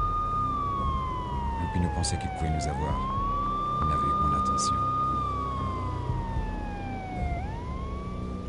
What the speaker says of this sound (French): J'entendais le hurlement des sirènes se rapprocher.